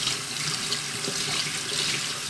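Tap water pouring steadily into a sink while germinated seeds for goldfinches and canaries are rinsed, a continuous close hiss of running water with no talk.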